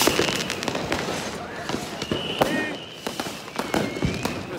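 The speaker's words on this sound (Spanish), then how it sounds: "Con tantos fuegos artificiales antes de que empiece." New Year's fireworks in Hamburg crackle and pop continuously, with repeated sharp bursts and some whistling rockets over a steady background din.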